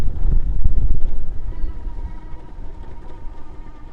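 A Revv1 DRT electric bike rides at full throttle through deep grass, its steady motor whine running under heavy, buffeting wind noise, with a louder rough stretch early on before settling.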